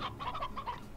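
A wild hen in a video game clucks in a rapid run of about six short, evenly spaced notes, close but quiet, with no voices.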